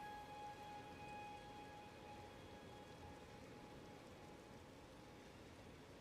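Rain in a video game, after the weather turns from cloudy to rainy: a steady, soft hiss of rainfall at low volume with a faint sustained tone running above it, no talking.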